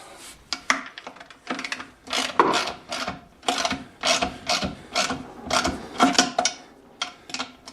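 Socket wrench ratcheting a nut onto a 5/8 bolt while mounting a Vevor mini lathe, heard as close, repeated bursts of clicking strokes in an uneven rhythm with no talking.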